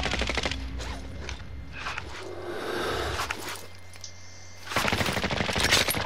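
Call of Duty: Modern Warfare gunfire comes in loud rapid automatic bursts at the start, thins to scattered shots and mechanical clatter in a quieter middle stretch, then erupts again in dense close fire at the end.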